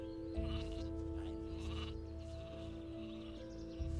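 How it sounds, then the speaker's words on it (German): Sheep in the video game Gothic 2 bleat a few times over a steady ambient game background with tonal hum, the calls moderately near and short. "Was ist denn mit den Schafen los?"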